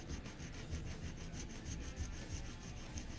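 Close, quiet rhythmic rasping of sandpaper on the nut of a handmade guitar, even back-and-forth strokes repeating steadily with no talking.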